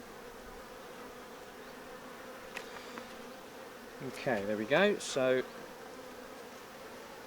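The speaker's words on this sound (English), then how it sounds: "Just going to smoke the bees again" Steady low honeybee buzzing around an open hive fills the background throughout, with someone speaking briefly over it near the end.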